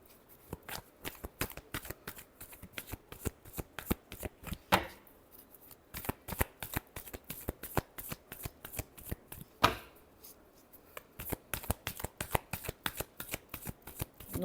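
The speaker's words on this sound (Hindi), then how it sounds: "नो कांटेक्ट में जो है लास्ट शफल।" Tarot cards being shuffled close up, a long run of crisp, rapid riffling flicks in bursts with short pauses, quiet overall and with no talk.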